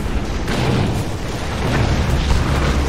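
Cannon fire in the Red Alert 3 strategy game: a dense, rumbling explosive roar with repeated low booms and bursts, loud and sustained through the whole stretch with no pauses.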